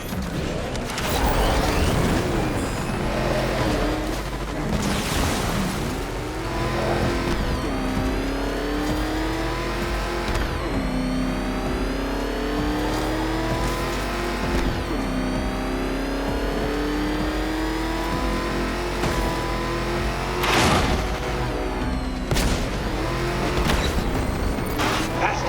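The Batmobile's engine in Batman: Arkham Knight races and revs hard throughout, a loud, continuous roar with rising and falling pitch sweeps, punctuated by bursts of impacts and mechanical clatter, with no talking.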